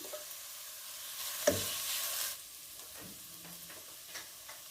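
Egg yolks sizzle with cabbage in a pan for a restaurant-style Schezwan chicken cabbage rice, a soft frying hiss with a brief louder burst of sizzling and stirring near the middle, then quieter scattered ticks.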